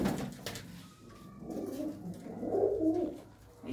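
Long-flying domestic pigeons kept by a Ludhiana fancier coo close by in soft, repeated, throaty swells, with faint background noise and no talking.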